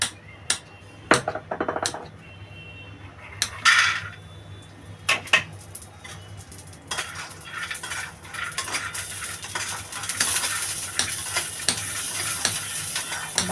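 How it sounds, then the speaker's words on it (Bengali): Peanuts fry in a little oil in a hot wok, with a steady close sizzle that grows denser toward the end, broken by sharp clinks and scrapes of stirring. No one speaks. "কড়াইটা গরম হয়ে গেছে বাদামগুলো ভেজে নেব সামান্য একটু তেল দিয়ে"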